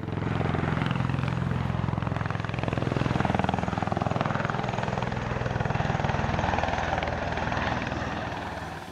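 A tiltrotor aircraft with tilting engines arrives at the Sun n Fun 2019 airshow, its loud, steady rotor and engine roar filling the whole stretch without a break.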